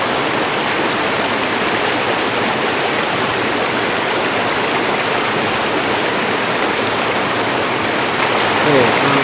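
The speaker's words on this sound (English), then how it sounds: "we need some good flowing water first" Water flows in a mountain stream along a hiking trail in the Cataloochee Divide area, a steady, close, rushing wash that holds even and unbroken throughout with no voices.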